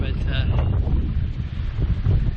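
Cold, breezy wind at a seaside resort on the North Shore of Grand Cayman, a steady low rumbling buffet across the microphone, with no talk over it.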